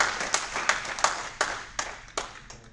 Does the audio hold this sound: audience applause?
yes